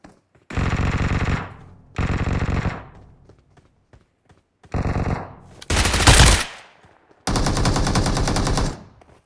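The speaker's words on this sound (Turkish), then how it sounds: "Arkamda silah sesi var." Automatic gunfire rattles in PUBG Mobile, several loud bursts with short pauses between them, the later bursts harsher and closer.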